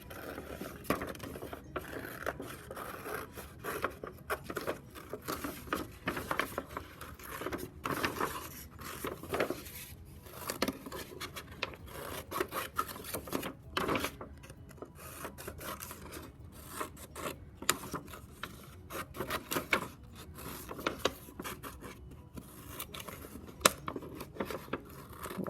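Scissors cutting out a paper snowman, with irregular close snips and rustling paper, steady and quiet, no talking.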